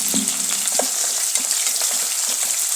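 Onion frying in hot oil with pulao spices, kasuri methi, bay leaf, stone flower and marathi moggu, a steady close sizzle with a few stirring clicks and scrapes.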